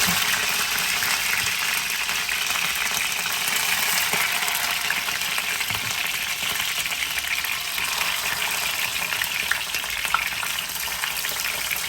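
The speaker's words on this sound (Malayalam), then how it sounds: "എണ്ണ ചൂടായിട്ടുണ്ട് നമുക്ക് ചിക്കൻ ഒഴിക്കണം" Chicken pieces fry in hot oil, giving a dense, continuous sizzle that stays loud and even for the whole stretch, with no talking over it.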